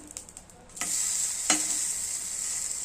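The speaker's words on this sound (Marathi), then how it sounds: "वरून पराठा शिजत आलेला आहे. आता आपण पलटून घेऊया." A paratha sizzles on a hot pan just after being flipped. A soft clatter comes first, then a quiet, steady high hiss runs to the end with no voices.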